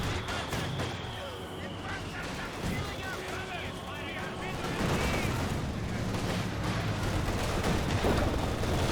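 Gunfire and mortar fire in a Company of Heroes 2 battle, with repeated sharp shots and booming impacts layered over dense rumbling battle noise, growing louder toward the end.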